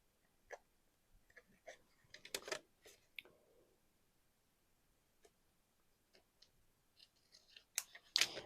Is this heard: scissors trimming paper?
yes